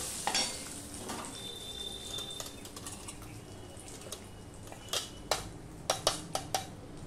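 Turmeric and salt are stirred into a jackfruit mixture in a pan. A spoon scrapes and clinks against the metal over a soft, low sizzle, with sharper knocks toward the end.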